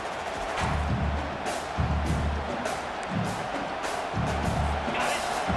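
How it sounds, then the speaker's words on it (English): A college football stadium crowd roars in loud, surging waves of cheering, with pulsing bursts rising and falling throughout. "This crowd bringing the energy and noise early"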